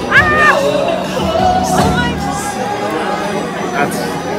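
Dense crowd chatter in a Disney park at night after fireworks, many overlapping voices and occasional whoops close by, with nearby people talking over the babble.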